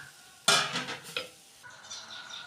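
A spoon stirs cooked grated carrot in a pan, making a sharp scrape and clatter, then a second softer knock against the metal, over a faint background hiss.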